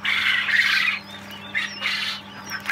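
Freshly hatched chicks squawk in repeated loud bursts, close by, with no talking during the calls.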